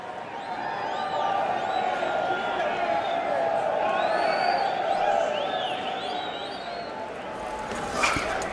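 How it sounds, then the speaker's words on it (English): Arena crowd in the boxing video game Fight Night Champion, during a Sugar Ray Leonard vs Jake LaMotta bout, gives steady applause and cheering as a dense, continuous roar that holds level throughout, with a sharp thump near the end. "they're applauding him"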